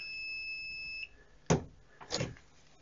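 A GVDA smart pen-type multimeter gives a steady, high-pitched beep lasting about a second during a phase sequence test, followed by a couple of faint handling clicks.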